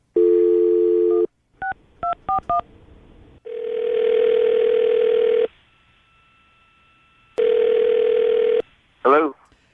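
A telephone dial tone followed by a quick string of keypad dialing beeps, then steady ringback tones on the line, close and clear with brief sounds in the pauses.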